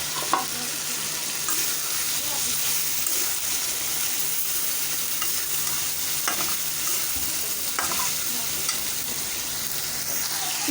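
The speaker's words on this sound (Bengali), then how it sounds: "চিচিঙ্গাটা কষে আসছে" Snake gourd and crushed jackfruit seeds sizzle loudly in a pan for a dried-fish curry, with a continuous hiss broken by occasional scrapes of stirring nearby and no talk.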